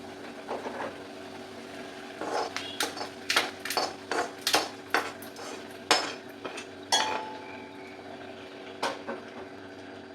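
Fried onions scraped from a kadai into a bowl with a metal spoon, a run of sharp clinks and scrapes of metal on metal and pan, fairly close, in quiet with no talking.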